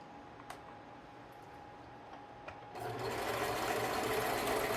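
A sewing machine stitching during a sewing class: faint ticks and a low room hum, then the motor starts up and runs as a steady, close, moderately loud whirr until the end.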